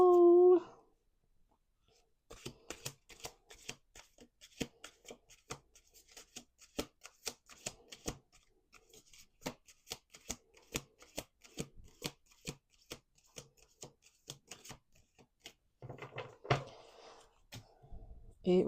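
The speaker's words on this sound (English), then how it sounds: "Last shuffle." Tarot deck shuffled over a table during a reading, a brisk series of sharp riffling clicks and paper flicks for most of the stretch, close up, with a brief voice at the start and some handling noise near the end.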